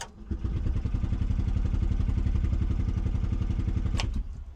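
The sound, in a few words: 1970 Piaggio Ape MP500 engine starting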